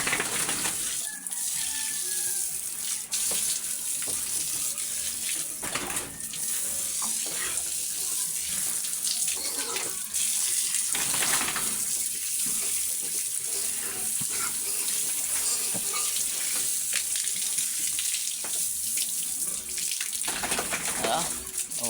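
Water splashes and pours steadily while a pig is bathed, a continuous running-water wash with brief louder gushes throughout.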